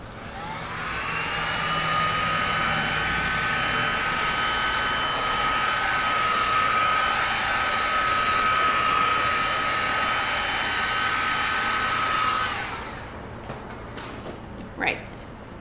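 A heat gun blows steadily over a large resin pour, a loud, even whooshing roar that runs for about twelve seconds, then cuts off, leaving quiet handling noises.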